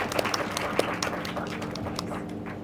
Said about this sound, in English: Can we have a big round of applause for Sundeep sir?